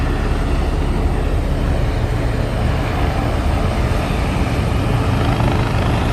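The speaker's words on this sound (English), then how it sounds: "There are 3 helicopters that are running, sitting there on the heliport and making that noise right now." Steady, continuous rotor and turbine drone from three helicopters idling on a New York City heliport, a dense low roar that holds constant without pause.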